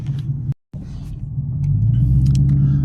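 A straight-piped Chevrolet Camaro SS idles with a deep, loud, steady rumble after a cold start, with a brief dropout near the beginning before the throaty growl swells slightly and holds.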